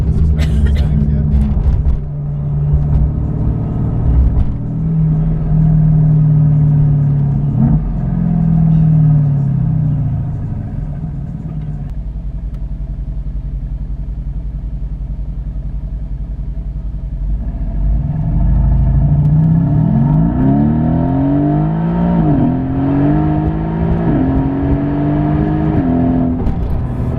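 A Mercedes-AMG GT S V8 rumbles loudly from inside the car, accelerating through rising gear pulls, settling to a steady cruise, then revving up again with sharp downshift blips, while people talk over it.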